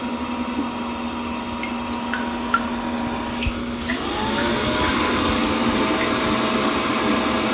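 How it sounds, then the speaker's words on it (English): Toto Washlet C5 bidet: a low steady hum gives way, about halfway through, to the power deodorizer fan starting up, a louder and fuller continuous whir that keeps running to the end. "And now the power deodorizer is going at 10 seconds later"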